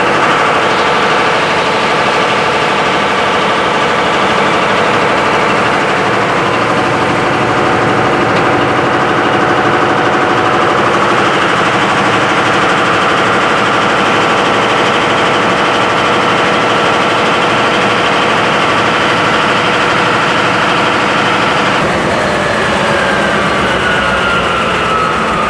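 A generator engine runs steadily during synchronization to the bus, a loud continuous mechanical drone with a constant low hum that holds evenly throughout and shifts slightly near the end.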